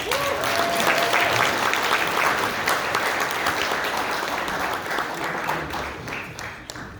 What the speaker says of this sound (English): Give Brother Calvin a big round of applause